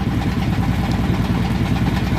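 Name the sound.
small boat engine running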